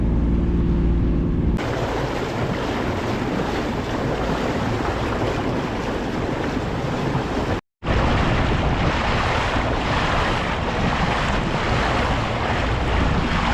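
A sailboat motor sailing on Lake Michigan some 18 miles offshore at about 6.5 knots, with steady loud wind and rushing waves across the whole stretch and a brief dropout near the middle.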